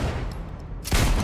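Gunfire in the video game Cyberpunk 2077: a sustained rattle of shots that swells into a louder, heavier burst near the end, with no talking.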